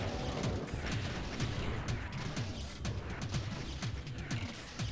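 Rapid, overlapping rocket explosions boom loudly and continuously as monsters infight in the Doom II map Flotsam Map05: Singularity, a dense barrage of blasts and crashes with no talking.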